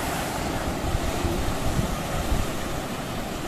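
Ocean surf rolls in at a surfing beach, a steady dense wash of breaking waves with wind buffeting the microphone, continuous and fairly loud with no voices.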